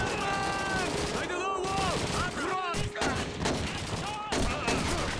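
Dense German weapon fire in the World War II shooter Call of Duty 2, a rapid fusillade of shots continuing across the stretch amid game music and ambient battle noise.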